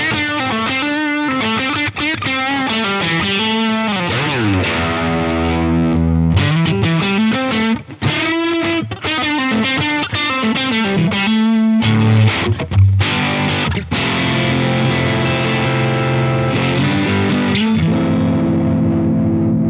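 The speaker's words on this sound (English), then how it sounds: "it starts to get into kind of almost fuzzy, blown out sounds when you get really loud and you push it quite hard" An electric guitar runs through a 3D-printed, star-shaped overdrive pedal pushed hard into a fuzzy, blown-out distortion. Loud, close strummed chords and sustained notes play without talk, with brief choppy breaks partway through.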